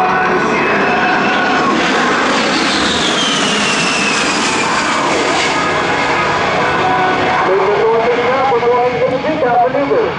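A-10 Thunderbolt II jet making a demonstration pass at an air show, its loud, steady engine roar filling the air with shifting pitch as it moves overhead, while an announcer talks throughout.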